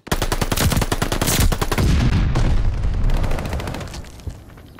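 Rapid automatic gunfire in a Call of Duty: Vanguard Hardpoint match on the Bocage map, a loud continuous burst of shots with dense overlapping reports that tails off toward the end.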